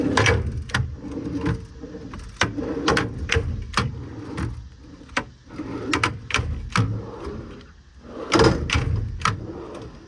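Metal CTech compartment drawers on the side of a 2020 Ford F550 extended cab service truck sliding open and shut, with a series of sharp clacks and rattling thuds, some clustered, close and moderately loud.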